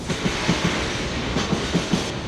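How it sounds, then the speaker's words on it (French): A freight train rolls past in an industrial area, a steady loud rumble with rhythmic clickety-clack of wheels over rail joints, heard close and without voices. "Un train de marchandises."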